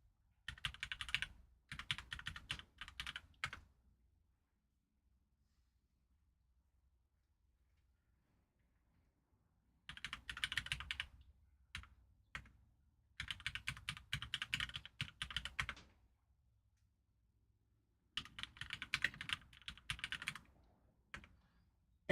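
Fingers type on a computer keyboard in fast, dense bursts of clattering keystrokes separated by long silent pauses, close and clear with no talking.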